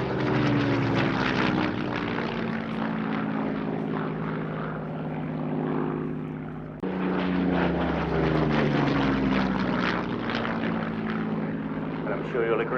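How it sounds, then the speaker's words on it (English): A Hawker Hurricane Mark 1 propeller fighter in 1940 colours roars loudly past at an air show, its piston engine droning and shifting in pitch. The engine sound is continuous and close throughout. "he's just showing how incredible our Hurricane really is."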